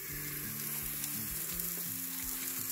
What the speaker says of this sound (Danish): Der er lidt kartofler nede på panden.